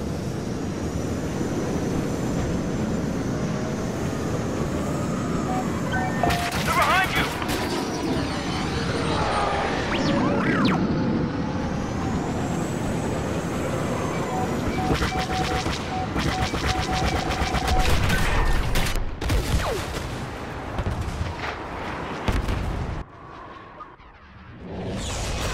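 Starfighter weapons fire during a Star Wars Battlefront fighter squadron dogfight, dense bursts of blaster shots and whooshes over a constant roar of engines and battle noise, loud and continuous throughout.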